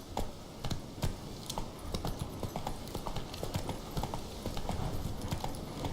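Hooves of Roach, a horse in The Witcher 3, clip-clopping in a steady trotting rhythm, close and fairly quiet, a continuous run of sharp beats with faint background sound.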